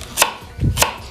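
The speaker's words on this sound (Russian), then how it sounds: "вот посмотрите, морковки сколько нам нарезать?" Two sharp knife strikes chop carrots on a board while preparing Tashkent wedding plov, with a soft thud between them, close and loud with no talking.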